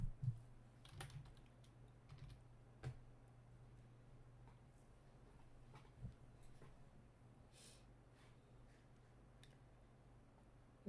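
Quiet, close tapping on a computer keyboard, with irregular bursts of keystrokes and short pauses between them over a faint steady hum.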